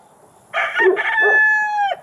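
A single rooster crows once, close and loud, a rising cock-a-doodle-doo that holds a long drawn-out final note before cutting off.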